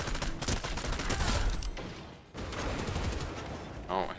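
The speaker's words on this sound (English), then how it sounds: "Someone shooting at me?" Loud bursts of rapid gunfire fill a multiplayer shooter game match, with a brief break in the middle, then heavy firing starts again. A voice speaks over the shots.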